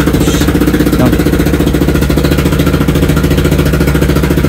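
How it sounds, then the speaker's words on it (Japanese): A Yamaha Tricker motorcycle engine runs loud and close with a steady, fast-pulsing single-cylinder thump after repairs for an unexplained fault. "エンジンかけてみましょうか。"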